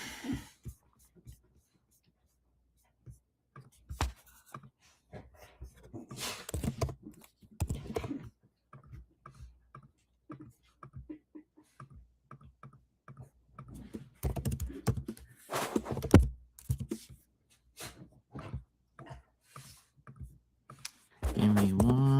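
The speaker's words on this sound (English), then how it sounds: "Slapping the keyboard if you can't hear." Someone types and slaps at a computer keyboard in bursts of sharp clicks and clatters, with pauses between flurries and quiet murmured speech at times.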